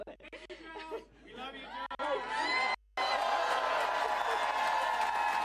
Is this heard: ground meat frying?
no